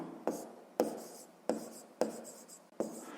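A pen scratches out a sixth-grade maths answer in five sharp, evenly spaced strokes, close and clear, with no voice over them.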